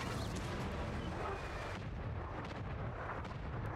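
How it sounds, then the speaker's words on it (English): A tank cannon fires a shell in the World of Tanks game, a heavy booming blast that fills the short stretch with dense, rumbling low-end energy and continuous battle noise, with no talking. "We're going to put our final shell into the Indy Panzer there"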